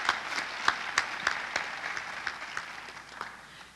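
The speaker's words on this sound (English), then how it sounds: "Please join me and give them applause." Audience applause fills a school community event hall, a steady wash of many hands clapping at moderate distance, with sharper individual claps standing out early before the sound slowly thins and fades.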